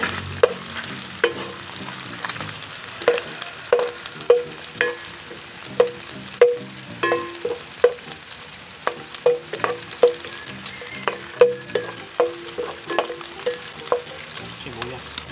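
Garlic sautéing in a pan for a Filipino dish, a steady soft sizzle broken by repeated sharp clinks and scrapes of a spatula stirring against the pan.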